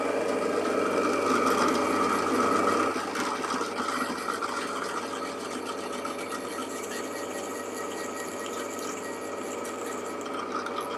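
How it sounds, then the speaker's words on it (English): A drill bores all the way through a wooden piece while making small boxes with compound angles, a continuous whirring grind that is louder for the first few seconds and then settles to a steadier, slightly softer hum. "looks like I'm going to be drilling all the way through"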